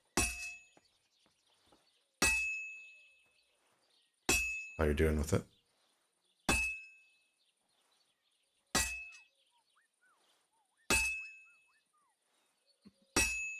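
Metal is struck on an anvil during crafting in a video game, giving sharp ringing clangs at a slow, even pace, each one decaying before the next, with a brief spoken phrase in the middle.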